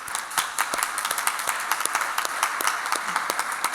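Meeting attendees applaud new trustees joining a board: a modest, fairly faint scattering of hand claps from a small group, steady and continuous for a few seconds.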